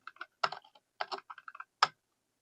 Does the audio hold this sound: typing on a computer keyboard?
yes